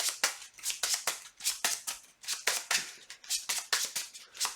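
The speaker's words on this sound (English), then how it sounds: "So we shuffle our deck." A deck of cards being shuffled during a card game, a quick run of crisp riffling bursts repeating steadily and close by, with no voices.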